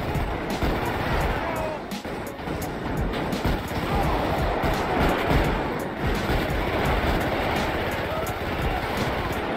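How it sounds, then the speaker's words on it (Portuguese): A train passes during a gang war in GTA V, a loud, continuous roaring rumble with rattling texture that holds steady throughout. "O trem passou"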